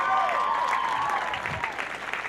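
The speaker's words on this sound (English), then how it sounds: "Give yourselves a round of applause." An audience at a Big Brothers Big Sisters event claps in a dense, steady round of applause that stays fairly even throughout, with a faint tonal sound above it.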